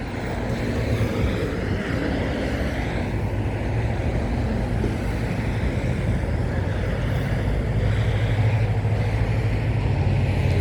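A Nissan car driving in and arriving at a parking area, a low steady engine rumble and road noise that swells slightly as it nears, continuous with no voices.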